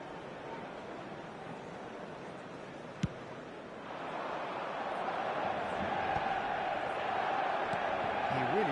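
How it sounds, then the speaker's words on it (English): A football stadium crowd applauds a near-miss shot on goal. The broad roar and clapping swell halfway through and stay loud beneath a commentator's talk. "at least the crowd are appreciative of his efforts"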